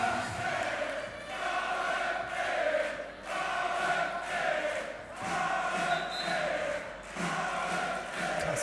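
Crowd noise from about 1,200 spectators at a women's volleyball top match, VfB Suhl against Dresdner SC in the Wolfsgrube arena, a loud continuous roar of cheering and chanting with rhythmic swells throughout.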